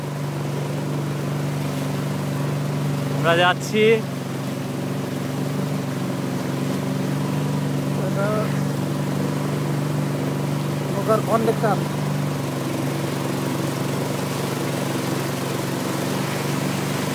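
A motorboat engine drones steadily and close on a river in the Thanchi area, with a constant low hum while someone speaks briefly over it a few times.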